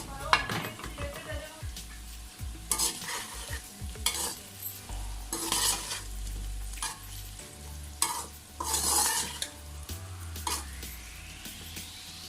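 Potato bhujia with chopped green chillies stirred in a frying pan, with a steady sizzle underneath and repeated scraping, clattering spatula strokes in bursts, close and fairly loud.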